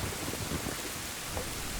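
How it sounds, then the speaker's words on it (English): A thunderstorm in a Zelda video game gives steady hissing rain with a low rolling rumble of thunder beneath it, even and continuous without any voices. "Storm, rain's coming down."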